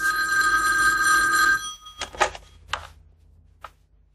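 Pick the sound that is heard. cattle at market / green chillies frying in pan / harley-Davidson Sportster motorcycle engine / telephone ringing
telephone ringing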